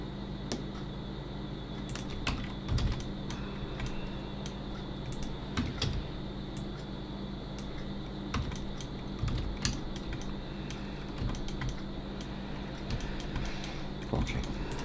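Steady computer keyboard typing for Blender shortcuts, with quick key taps and clusters of clicks running throughout over a low hum, close and moderately loud.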